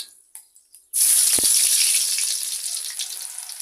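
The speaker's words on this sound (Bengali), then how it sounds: "তেলটা গরম হয়ে গেছে এখন দিয়ে দিব তিনটা শুকনা মরিচ" Three dried red chillies hit hot oil with a sudden loud burst of sizzling after a second of near silence, then the crackle holds steady and eases slightly as they fry.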